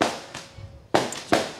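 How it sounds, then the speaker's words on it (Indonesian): Firecrackers go off during a Javanese comedy stage show: four sharp, loud bangs at uneven intervals, each with a short fading crackle and no talk between them. "Yo lakil iki dagelane disantet karo mercon"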